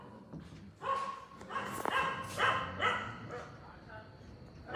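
Several close household dogs barking in short repeated bursts, with yips mixed in, under nearby talking.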